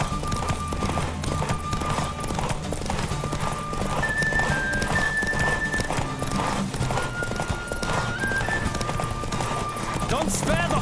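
In The Witcher 3, a horse gallops hard during a race, with rapid hooves clip-clopping nonstop and occasional neighs over game music and background ambience.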